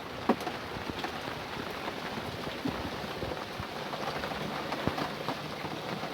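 Steady rain falls on a sailboat at anchor in Davis Cove, Muscongus Sound, Maine, a dense, even hiss of drops with scattered close patters, continuous throughout, with no one speaking.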